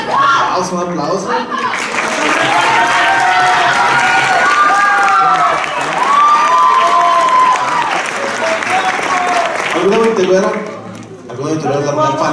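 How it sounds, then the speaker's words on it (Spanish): A crowd at a rondalla performance claps loudly and steadily under sung or spoken voices, with the applause easing near the end before talk resumes. "Un aplauso."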